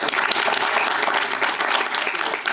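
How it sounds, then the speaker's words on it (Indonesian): A crowd at a school ecobrick showcase applauds, with steady, dense clapping that is loud and continuous throughout. "Kasih aplaus dong buat kalian"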